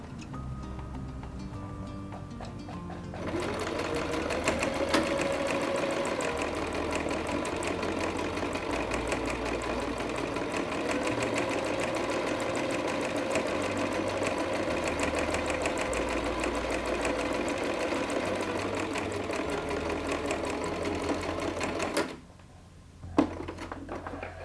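Sewing machine running steadily as it stitches fabric, a continuous close mechanical whir with a fast stitching rhythm for about twenty seconds, stopping briefly near the end before starting again.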